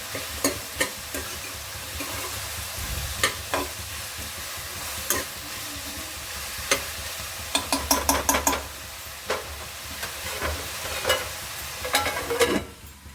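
Radish and potato stirred and frying in a pan: steady sizzle underneath with repeated sharp scrapes and clinks of a spatula against the pan, irregular and close, no talking.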